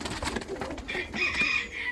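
Crested pigeons let out of boxes after a night inside, giving soft coos and rustling wing noise over a busy, noisy background.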